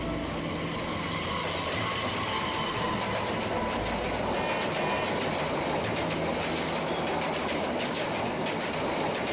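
A train rolls past in a steady, loud rumble with rhythmic clickety-clack of wheels over rail joints and a faint metallic squeal, sustained and close throughout, heard alone.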